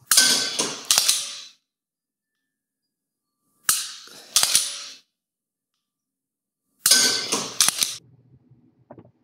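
Three bursts of dry-fire practice shots with a homemade laser trainer target, fired from a normal shooting stance about 15 feet away; each burst holds two or three sharp mechanical clicks and snaps, separated by silence.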